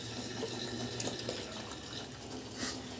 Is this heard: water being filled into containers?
yes